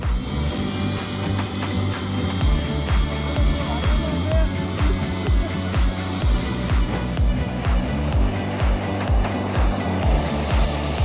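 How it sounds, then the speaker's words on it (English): A jet engine mounted on a bicycle gives a loud, steady whine with a rapid rhythmic pulsing and a bright high tone on top. It stays close and continuous the whole time. "These guys made this idea a reality by installing a jet engine on a bicycle."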